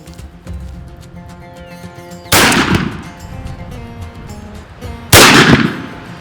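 Two sharp, loud blasts from a Winchester SXP Longbeard 20 gauge pump shotgun fired downrange at 40 yards during turkey season, spaced about three seconds apart, each with a brief ringing tail outdoors.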